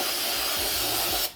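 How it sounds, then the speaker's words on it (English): Brake cleaner sprays onto a Ford 8.8 differential in one loud, steady aerosol hiss, close by and alone, that lasts just over a second before cutting off abruptly. "when I have brake clean, I just use the hell out of it"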